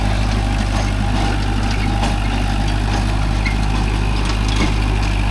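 A Kubota MU4501 45 hp tractor runs steadily with a 42-blade Gomathi rotavator attached in a coconut grove, a constant low diesel drone close by with no pauses.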